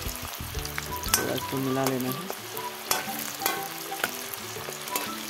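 Onions fry in hot oil in a pan, a dense close sizzle with spatula scrapes and taps, while a voice speaks briefly over it.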